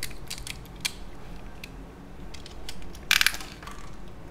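Quiet small clicks, snaps and crunching plastic as wires are punched down into a CAT6 keystone jack, scattered irregular taps with a short cluster of sharper clicks near the end, close up and faint.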